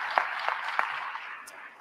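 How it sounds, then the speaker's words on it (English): Applause from an audience at a Chicago mayoral candidates forum, a broad wash of clapping with a few sharper claps early on, fading out toward the end. "How about a round of applause for our partners?"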